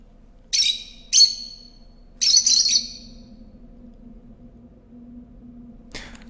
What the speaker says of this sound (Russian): Птичка щебечет.